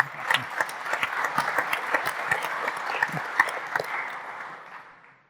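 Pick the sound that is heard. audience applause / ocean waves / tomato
audience applause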